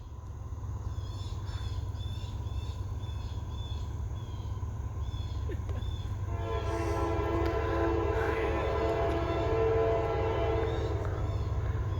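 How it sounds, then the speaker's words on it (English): A CSX manifest freight train rolls past with a continuous low rumble and rail noise, joined partway through by a louder, brighter stretch of wheel and car sound, with birds faintly audible. "Got CSX, Manifest."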